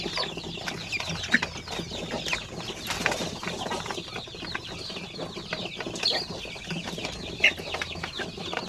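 A crowded flock of young chicks, about 45 days old and of sampin breed, peeping and clucking continuously with dense overlapping calls at close range, with no talk.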